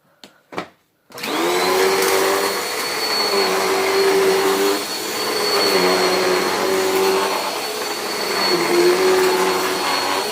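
A Dirto Power Express vacuum cleaner runs on carpet in a room: a few clicks, then a loud steady motor whine and airflow roar with a pitch that rises and dips as it is pushed back and forth.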